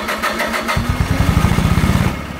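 An Onan JB 7.5 generator engine cranks and catches, settling into a rapid, steady pulsing chug close by for over a second before it starts to fade out; no talk over it.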